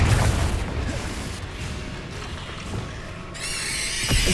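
A Confringo blast spell explodes in Hogwarts Legacy, a loud booming burst at the start that fades into a rumbling decay, followed by a bright shimmering magical effect near the end.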